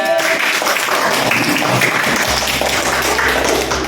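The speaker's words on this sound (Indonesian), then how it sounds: "Tepuk tangan buat Kak Ina." Applause from a group fills the whole stretch, a dense steady patter of clapping at close range with no talking over it.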